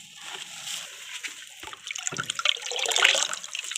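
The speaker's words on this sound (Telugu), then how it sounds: "ఇది ఒక బకెట్ వాటర్ కదా, మనము 3 మగ్స్ ఇది పోసేసుకుందాం." Water poured from a mug into a bucket while diluting homemade organic plant fertilizer; a close, splashy pour that builds toward the end, with no talking.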